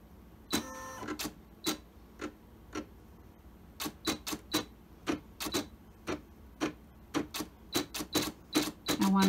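A Brother embroidery machine stitching an applique design gives off sharp, evenly spaced mechanical clicks and taps, close and fairly loud, with occasional quicker bursts and brief low voices in between.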